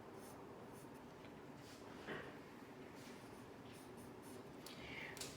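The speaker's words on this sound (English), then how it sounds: "go with my line, and maybe I want to write size" Hand lettering written in a sketchbook page, a steady soft scratch of pen or pencil across paper under low background hiss, continuous and close throughout.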